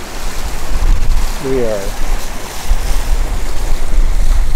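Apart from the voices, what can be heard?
boat motoring with both engines running through waves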